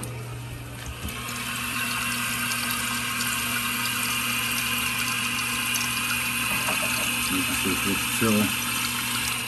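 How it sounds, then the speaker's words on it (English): Water rushes steadily into a toilet bowl with a constant hissing fill and low hum, while a voice briefly speaks at the start. "you can hear the bowl filling up there"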